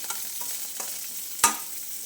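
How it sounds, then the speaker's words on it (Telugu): Garlic frying in hot oil with curry leaves, a steady close sizzle marked by a few soft stirring knocks and one sharp clink. "ఇంకా వేగిపోయినాయి వెల్లిపాయలు కొంచెం దీంట్లో నూనెలోనే మగ్గిపోతుంది. వేగుతా ఉన్నాయి నూనెలో."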